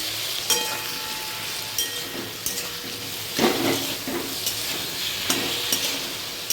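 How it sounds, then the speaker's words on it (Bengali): Spice paste, loosened with a little water, sizzles steadily in hot oil as it is stir-fried, with occasional clinks and scrapes of a utensil against the pan. "এবার এই মশলার মিক্সটা দিয়ে দেবো, ভালো করে কষিয়ে নেব"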